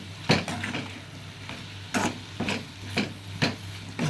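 A spoon stirs vegetables with spices and salt in a pan, giving repeated scraping strokes in an uneven rhythm over a low, steady sizzle, close and fairly quiet.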